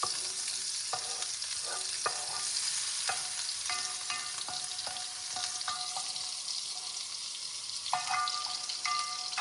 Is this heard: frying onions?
yes